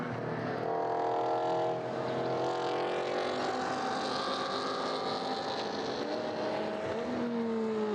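A Mazda MX-5 race car drones steadily and loudly on the circuit at Pittsburgh International Race Complex during a GRIDLIFE event, its engine note holding and shifting slightly throughout with no voices.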